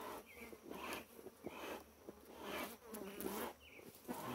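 A strong honey bee (Apis) swarm buzzes steadily in a bait box being transferred to a standard Langstroth hive, a dense close drone with pulsing swells and no talk.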